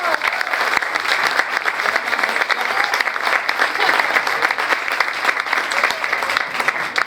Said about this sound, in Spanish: Un aplauso a mi esposo.